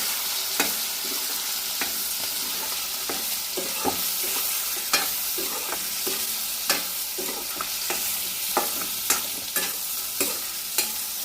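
Bottle gourd greens fry in a pan in a home kitchen with a steady sizzle, while a utensil stirs and scrapes against the pan in regular clicks throughout.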